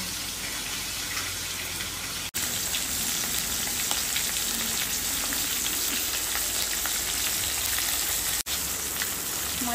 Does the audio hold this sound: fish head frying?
yes